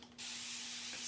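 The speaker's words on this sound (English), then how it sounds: "spray a little bit more water on there" A fine mist sprayer hisses distilled water onto a chalk-paste design, a single steady, close spray starting after a brief pause and running to the end.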